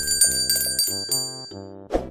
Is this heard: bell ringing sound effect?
yes